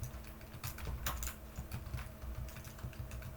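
Keys clatter steadily on a computer keyboard, soft and close, in quick irregular taps with no pauses over a low background hum.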